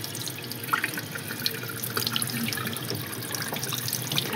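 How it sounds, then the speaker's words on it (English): Tap water runs steadily into a sink while houseplants are watered, a continuous close splashing and trickling with scattered small drips throughout and no voices. "the way that I actually just water these plants is just like this"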